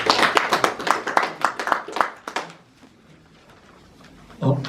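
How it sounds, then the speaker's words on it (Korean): Small seminar audience clapping to welcome a speaker at an academic seminar, a couple of seconds of crisp, uneven claps close by that stop abruptly, a quiet pause, then a voice begins. "박수로 맞아주시면 고맙습니다."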